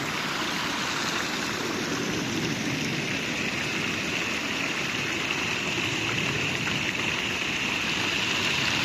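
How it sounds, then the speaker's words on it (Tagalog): Steady rushing of a flowing stream, continuous broadband water noise with no breaks, close and fairly loud, no voices. "maririnig mo yung daloy ng tubig na napakasarap sa tenga"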